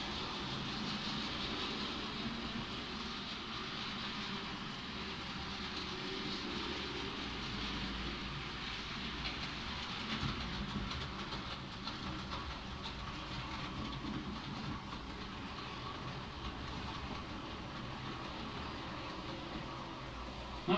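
A model train runs steadily around a layout controlled by a Z21 system, giving a continuous low rumbling clatter of wheels on track at moderate distance, with no talking.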